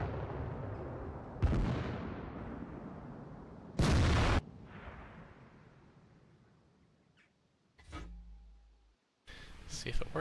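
Tank cannons fire in the World of Tanks video game, with a few sharp, heavy booms spaced seconds apart. Each boom is followed by a fading rumble, and a short mechanical clunk comes near the end.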